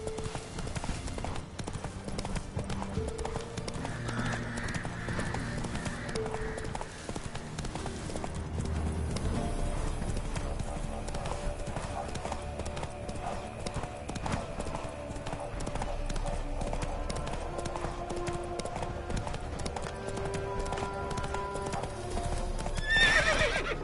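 Roach, a horse in The Witcher 3, gallops with steady clip-clop hoofbeats and neighs loudly, set against a continuous game music score throughout.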